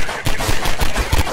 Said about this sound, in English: Can you stop shooting at me?